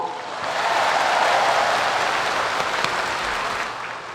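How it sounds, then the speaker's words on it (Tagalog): Crowd applause at a political gathering in Batangas, Philippines: a steady, loud wash of many hands clapping for about four seconds, swelling gently and then tapering off. "Ay palakpak kung pwede."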